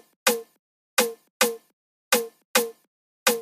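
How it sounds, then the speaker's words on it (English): Six punchy, bouncy snare hits from a Moombahton production kit, each a sharp bright crack with a short tonal body, played alone at an uneven rhythm, close and clean. "So this is the third snare."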